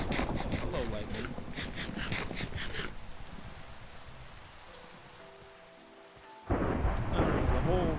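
Thunder rumbles and rain pours during a storm in the video game Minecraft, with dense rainfall hiss, a low rolling boom, a quieter lull, then a sudden loud return of heavy rain; a voice speaks over the early part.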